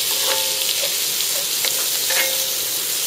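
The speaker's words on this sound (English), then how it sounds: "Trinity goes in, saute it till the onions get translucent." Onion trinity sautéing in melted butter gives a steady, close sizzle and crackle with a few brief stirring clicks, continuous and alone for the full few seconds.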